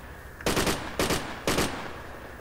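Three short bursts of automatic gunfire in the Project Reality military shooter, evenly spaced about half a second apart, loud and sharp against a quiet background hum.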